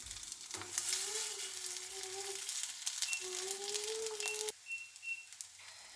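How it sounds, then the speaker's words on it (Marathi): Sabudana vada, patties of tapioca pearls, frying in hot oil, giving a steady broadband sizzle throughout with faint tonal background sounds alongside. "चला त्याला फ्राय करून घेऊया, छान असं भाजून घेऊया"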